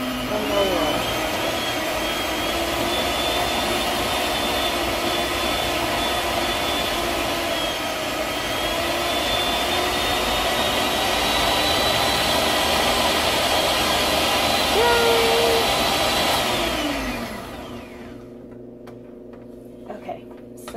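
Electric hand mixer beating buckeye dough, a loud, close, continuous motor whine with shifting pitch as the beaters work, cutting off near the end to a brief near-quiet.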